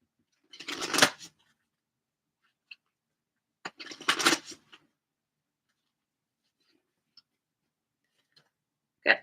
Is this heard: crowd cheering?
no